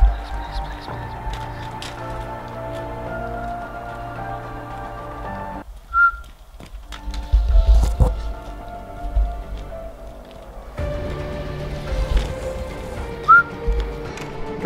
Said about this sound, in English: Guys, I just heard a whistle.